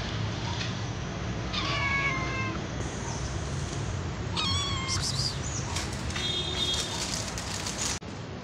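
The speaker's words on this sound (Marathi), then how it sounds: "इथे बघा आम्हाला एक कॅट भेटली" A cat meows in several short, clear calls, mid-distance, spaced across a steady background hiss, with a few louder, higher cries near the end.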